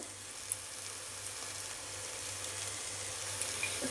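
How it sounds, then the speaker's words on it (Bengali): Prawns and vegetables fry in a pan, giving a steady, quiet hiss of sizzling with a few faint clicks of stirring, close by and unbroken. "এবার চিংড়ি মাছটাকে ভালোভাবে সবজিটার সাথে একটুখানি নেড়ে নেব।"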